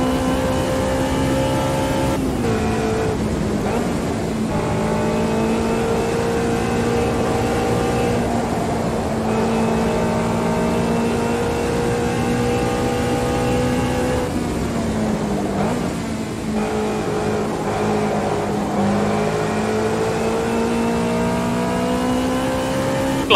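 Racing cars with roughly 1000cc engines in a racing video game, a continuous revving engine note that climbs and dips through gear shifts, loud and close with no voices.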